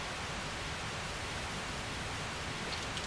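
TV static in the Silent Nights video game, a steady, soft, even hiss that could pass for rain, unbroken and alone with no voices.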